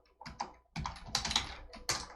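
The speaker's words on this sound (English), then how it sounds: "And here I'm going to type" A MySQL command is typed on a computer keyboard in quick bursts of close, crisp keystrokes with short pauses between clusters and no talking.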